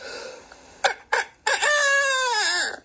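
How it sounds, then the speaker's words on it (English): A rooster crows nearby: a couple of short sputtering bursts, then one long, drawn-out call that falls away at the end. "The great rooster crowed"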